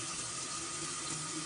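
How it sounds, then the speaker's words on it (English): Water from a tap pours steadily into a sink as a continuous, even, fairly faint broadband rush, with no voices over it. "Let me go ahead and cut this water on and get it ready."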